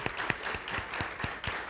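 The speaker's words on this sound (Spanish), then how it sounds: "pido un fuerte aplauso" Brief applause from a small audience at a film-industry gathering, with fairly quiet, rhythmic hand claps standing out distinctly over a soft wash of clapping for under two seconds.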